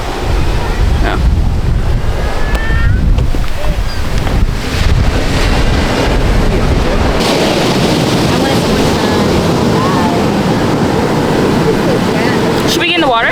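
Ocean waves and wind at Malibu beach, with a steady roar of surf and heavy wind buffeting the microphone throughout; faint voices come and go beneath it.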